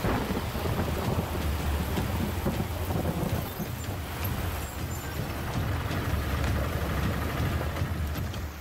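Heavy monsoon rain pours down in Raigad, Maharashtra, a dense, unbroken roar of rainfall with a low rumbling undertone throughout and no voices.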